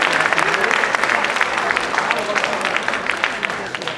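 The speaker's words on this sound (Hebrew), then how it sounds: "מחיאות כפיים לקיבוץ הזורע." Dense, steady audience applause fills a concert hall at Kibbutz HaZorea during a tribute show for a band, sustained at full strength for about four seconds before easing slightly.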